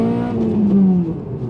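A Honda K20A engine in an Accord Euro R revs steadily with a smooth, rising and falling tone, loud and close, with no talk over it.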